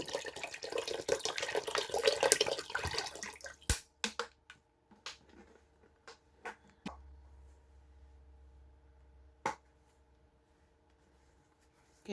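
Bottled water, seven bottles' worth, poured into a pot for homemade turkey and vegetable broth: a first few seconds of steady, close gushing and splashing, then scattered drips, plops and light handling knocks trailing off into near quiet.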